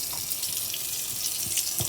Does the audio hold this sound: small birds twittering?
no